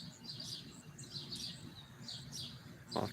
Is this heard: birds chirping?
yes